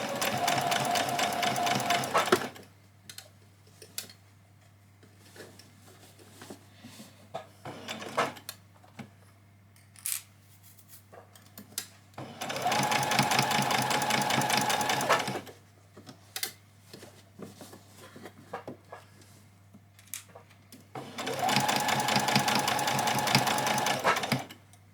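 A sewing machine stitches fabric for a child's dress, running in three loud, steady whirring bursts separated by quieter pauses filled with handling noises and a constant low hum.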